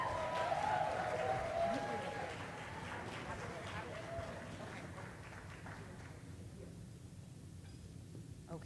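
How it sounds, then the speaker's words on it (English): An audience at a Black Women's Roundtable jazz brunch during Essence Fest applauds Angela Rye, a broad mid-distance clapping that fades gradually over several seconds with murmuring crowd voices beneath. "Give us a good sister love clap for my sister, our leader,"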